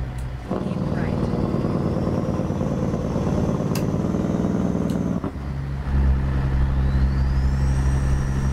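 A stretched Peterbilt 379 with a Cat 3406E engine in American Truck Simulator, driving Route 97 from Medford toward Bend, Oregon. It gives a loud, steady diesel drone that briefly dips, as in a gear change, then resumes slightly deeper and stronger.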